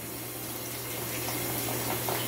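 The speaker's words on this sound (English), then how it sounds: "Now the water is going inside." Water runs steadily into a Baby Shark tummy-time water play mat through its one-way seal, a constant close hiss and gurgle without pause.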